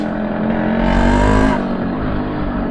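A classic two-stroke motorcycle engine revs loudly and steadily, rising briefly to a higher pitch in the middle before settling back, with no voices over it.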